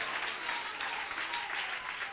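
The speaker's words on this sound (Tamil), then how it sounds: "இதுவரையும் தட்டாதவர் கைத்தட்டை ஆண்டவருக்கு கொடுங்க." A church congregation claps together in dense, sustained applause, a continuous crackle of many hands that stays even and fairly close with no pauses.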